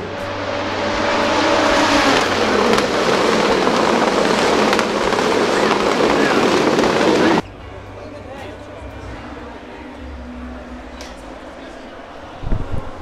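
A Ferrari race car at the 2015 Long Beach Grand Prix, with a loud broadband engine roar passing close that cuts off abruptly, leaving faint crowd ambience and distant engines.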